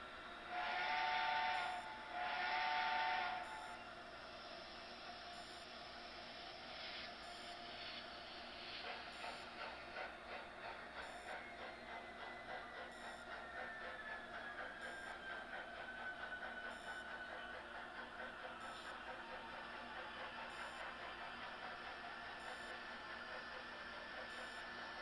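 Steam locomotive SC70 shutting down in a train simulator game: two loud whistle-like blasts at the start, then a long steady hiss and rumble with a faint tone sliding downward as the engine winds down.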